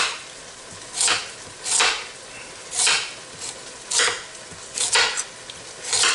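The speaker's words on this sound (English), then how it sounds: "Hope the noise of the knife is not too overwhelming to your ears." A kitchen knife chops carrots on a cutting board in a steady series of loud, sharp strikes, roughly one every second, close up with no talk.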